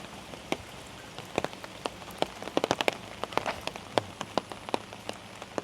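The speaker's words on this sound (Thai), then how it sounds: "แต่ตอนนี้คือฝนตกไม่หยุดเลยครับ" Continuous rain falls during a rainy-season trip in northern Thailand, near a large pond and playground: a steady hiss of rain with scattered sharp drips and taps landing close by, and no voices.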